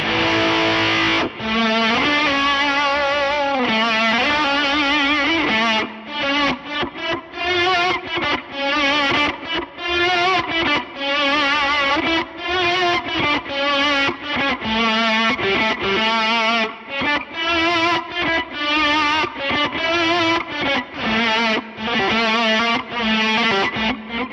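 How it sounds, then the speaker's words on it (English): Heavily fuzzed electric guitar run through a Source Audio Ultrawave pedal, with an envelope-to-volume effect after the distortion producing big, loud swelling notes that rise and cut off in a choppy, repeating rhythm, with no talking. "using lots and lots of fuzz and using this single band envelope to volume thing post distortion so you can get big distorted swells"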